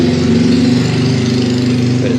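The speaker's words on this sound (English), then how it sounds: "Hear the motorcycles going past." Street traffic with motorcycles passing in front of a Thai buffet restaurant in Chiang Rai, a steady mid-pitched engine drone running loud and close throughout, with no speech over it.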